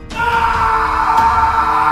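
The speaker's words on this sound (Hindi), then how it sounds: "दीवार से टकराने के बाद सतीश की एक जोरदार चीख निकलती है" A man lets out a single loud, sustained scream after being thrown against a wall in a Hindi horror audio story, one long strained yell heard up close.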